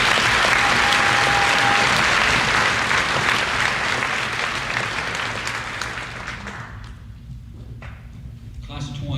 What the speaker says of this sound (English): So let's give a round of applause for Mr. Dean Morrison.